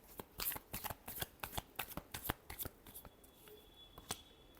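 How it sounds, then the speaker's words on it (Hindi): Tarot cards are being shuffled up close in a quiet room, a quick run of crisp, evenly spaced riffling slaps that softens toward the end. "Last shuffle."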